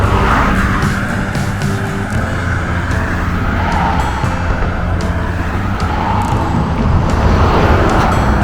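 Steady road traffic rushing past near a waterfall, a dense continuous roar of tires and engines close by, broad and unbroken for the whole stretch, with no voices.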